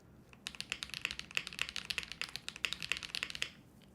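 Rapid clacky keystrokes on a foam-dampened tenkeyless mechanical keyboard with a glass back, a dense, steady burst of crisp taps up close that stops abruptly.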